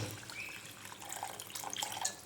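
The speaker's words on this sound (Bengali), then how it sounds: "এবারে পরিমাণ মতো একটু জল দিয়ে দেবো এই যে জল দিয়ে দিলাম" Water pours briefly into a pan of fried spices for pomfret curry, a soft close splashing and trickle with faint sizzle, quiet and alone.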